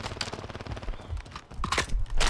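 Rapid gunfire in the video game Call of Duty, clusters of sharp automatic shots and bursts crackling throughout, with short pauses and a loud volley at the end, no talking.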